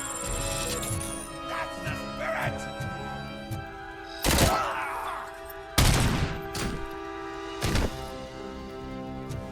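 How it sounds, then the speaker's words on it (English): Gunfire in the video game Robocop Rogue City, with a few loud, sharp bursts a couple of seconds apart over game music and ambience. "there was a machine gun up there"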